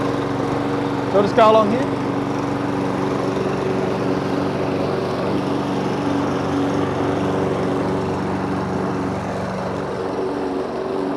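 A petrol lawn mower drones steadily as it mows a lawn, a constant mid-distance engine hum running throughout, with someone talking briefly over it near the start.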